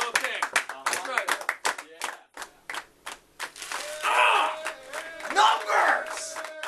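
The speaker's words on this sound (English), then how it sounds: "Don't stop the clapping, baby." A crowd at an office Christmas show claps in a quick rhythmic beat, mixed with loud voices shouting and talking. The clapping later gives way to a busier burst of crowd noise.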